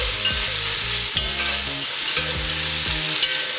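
Steady loud sizzling from a hot pan of paneer and peas, with a few scrapes and stirs of a spatula through the frying food.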